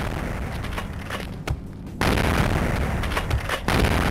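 Heavy gunfire in the video game Vampire the Masquerade booms in a dense, continuous barrage, loud and close, with a brief lull midway before the shooting resumes.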